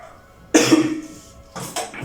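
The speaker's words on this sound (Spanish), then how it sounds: "andamos con un poquito de tos" A person coughs with a sharp burst followed by a second shorter fit about a second later, close and fairly loud in an otherwise quiet room.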